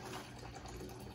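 Liquid trickling steadily out of a Vevor pot still, a soft, continuous running stream heard up close and fairly quiet, with no talking.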